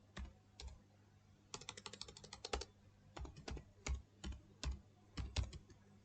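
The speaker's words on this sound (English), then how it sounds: "user ID I have given and I have typed in my password as well" Computer keyboard typing a password during a login, with irregular clusters of close, crisp keystrokes and short pauses between the clusters, and no other sound.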